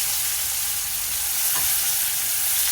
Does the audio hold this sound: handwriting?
no